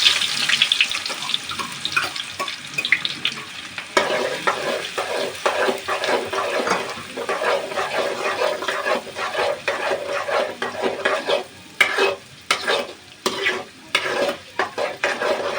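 Cumin and chopped onions sizzle in hot oil in a pan while being stirred, a steady frying hiss with scraping stirring strokes throughout, close and fairly quiet.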